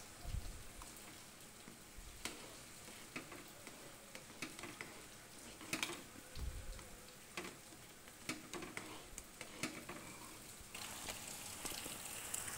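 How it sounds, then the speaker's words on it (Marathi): Steady rain pattering faintly on a surface, with scattered drips and taps over a soft continuous hiss. "आता पाऊस पडतोय बाहेर"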